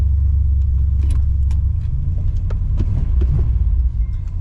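A 1964 Oldsmobile 98 engine runs at a fast idle with its choke wired open, a loud deep continuous rumble up close, overlaid with scattered metallic clicks and light rattles.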